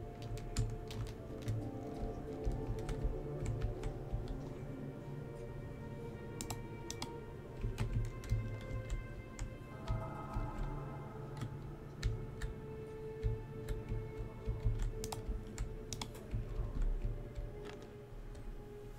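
Fingers tap on a computer keyboard in quick, irregular bursts of soft close clicks, set against a steady low hum of background game music while playing Solasta: Crown of the Magister.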